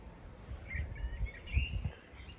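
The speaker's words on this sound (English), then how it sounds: "Lovely birds singing as well." Small birds chirp and sing in short bursts near the footbridge and level crossing at Wateringbury railway station, fairly quiet over soft low outdoor rumble.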